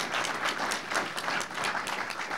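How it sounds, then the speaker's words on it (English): Audience at a MAD Canada gathering breaks into warm, sustained applause, a dense wash of many clapping hands filling the room. "Give them applause."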